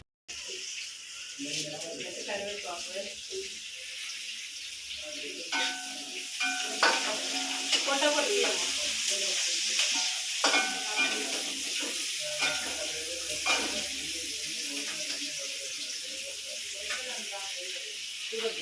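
Fish sizzle in a pan on a village wood stove, crackling steadily while being stirred at moments. People talk over the frying throughout.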